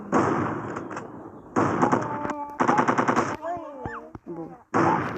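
Rapid bursts of shotgun fire in the online shooter game Milk Choco, loud and repeated in clusters over game sound effects and tones, with short gaps between volleys.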